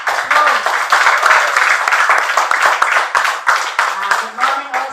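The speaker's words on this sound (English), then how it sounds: "Let us give her a very warm applause." A class audience at a school debate claps warmly, a dense burst of applause close by that runs throughout, with a few voices mixed in.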